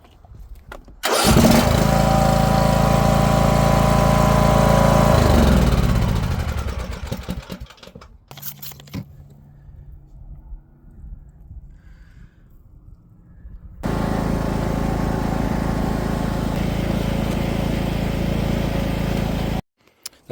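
A riding lawn mower engine, its shut-off solenoid wire just repaired, cranks and catches, runs loudly, then winds down to a rough sputter; after a quieter stretch of mechanical ticking it fires up again and runs steadily at close range.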